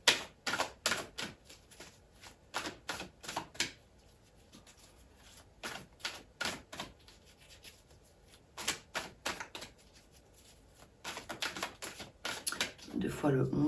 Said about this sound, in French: je regarde en battant les cartes un petit peu si d'autres choses me viennent